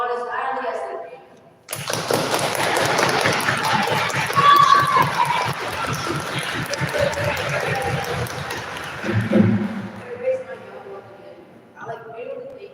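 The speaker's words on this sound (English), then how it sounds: "To applaud as loudly as they can." A school audience at a Big Bad Wolf play applauds and cheers loudly, a sustained roar of clapping and crowd noise lasting about eight seconds, with voices heard before and after.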